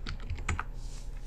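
Quick keystrokes on a computer keyboard while working in the Figma design app, a short close burst of a few clicky taps over a light room hum.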